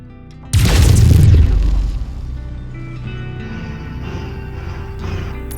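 A mech in MechWarrior 5 fires a laser volley, a sudden loud booming burst lasting about a second and a half that fades into a low, steady mechanical hum.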